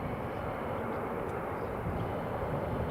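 An EasyJet airliner on the ground at Newcastle International Airport gives off a steady, broad engine roar, even and continuous at moderate distance with no break.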